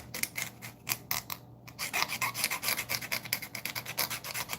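Close, steady rasping and rubbing as a tool roughs up the surface of a leather belt before gluing, a run of quick repeated strokes broken by one brief pause.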